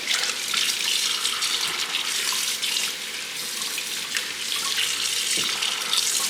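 A tap runs steadily into a sink while turkey wings are rinsed under it, a constant close hiss of splashing water with no break.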